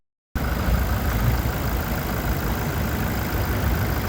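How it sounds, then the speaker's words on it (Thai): A 2023 Toyota Hilux Revo 2.4 manual pickup truck engine idles steadily and loudly up close, a low, even rumble that starts abruptly and holds without change. "เดี๋ยวให้ฟังเสียงเครื่องยนต์ให้"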